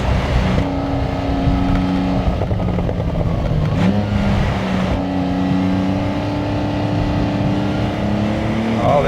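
A Gunther Werks Speedster drives and accelerates, its engine note droning steadily and then climbing in pitch as it pulls away, loud and continuous with no talk.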